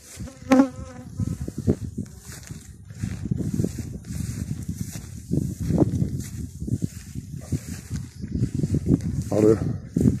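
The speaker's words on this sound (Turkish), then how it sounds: "Arı yeni kapak açınca çok hırçın. Çok saldırıyor." Honeybees buzz steadily around hives at an apiary near linden trees, a dense close drone that continues throughout with someone talking over it.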